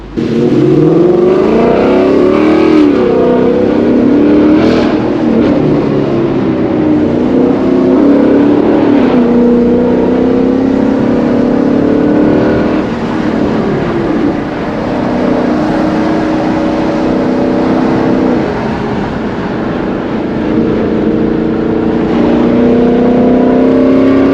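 A car engine revs and accelerates through paddle-shifted gears while different drive modes are tested on a night drive, rising and falling in pitch repeatedly with brief dips at shifts, loud and close throughout.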